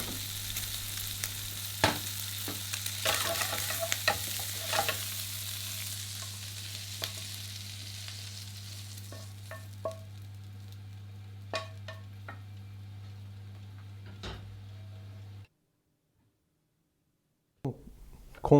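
Bacon frying in a pan, a soft steady sizzle with occasional clicks and taps over a low hum, fading to silence near the end.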